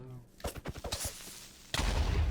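A run of sharp, rapid Minecraft blasts and pops, followed by a sudden loud, sustained rumbling boom, with faint talk underneath.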